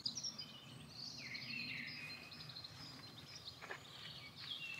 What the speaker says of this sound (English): Absolutely love listening to the birds.